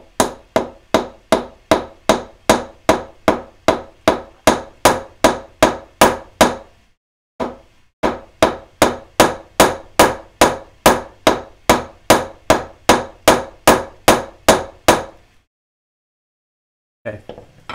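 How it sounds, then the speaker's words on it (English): A small jeweler's hammer flattens copper wire in a brisk, even run of close metallic taps, about fourteen strikes. A brief pause follows, then a second similar run, with no talking. "I'm actually going to hammer it flat with my little jeweler's hammer."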